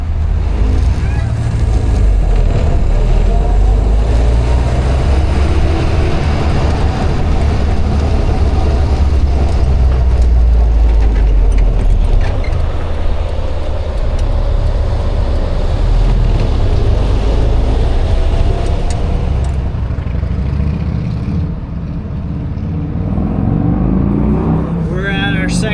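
A 1948 Willys CJ-2A jeep on the road gives a loud, continuous engine drone and low rumble, buffeted by heavy wind noise. It dips briefly near the end, and no clear speech is heard.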